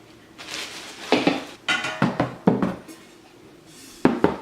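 Clanks and clatters of a Viking 3-ply stainless frying pan being unwrapped and handled, a series of irregular metallic knocks and rattles at close range, with no talking.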